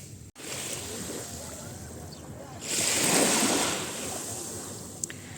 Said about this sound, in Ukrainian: побільше шуму моря для тих, хто сумує